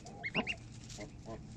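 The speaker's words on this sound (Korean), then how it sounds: "엄마 오리는 아기 거위들에게 이제 그만 돌아다니고 잠자러 엄마 품속에 오라고 소리내는 것 같다." A mother duck calls at night to a brood of goslings, a few short, soft honking clucks close together, then two fainter calls over quiet background hiss.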